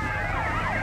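Ambulance siren from GTA Vice City gameplay wails in sweeping up-and-down tones over a steady low engine rumble, loud and continuous with no talking.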